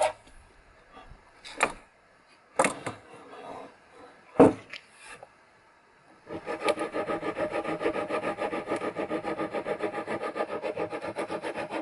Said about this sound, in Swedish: då har jag slipat och filat på de här konturerna så gott det går